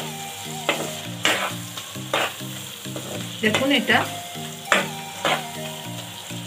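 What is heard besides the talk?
onions and spices with Kashmiri chili powder frying while stirred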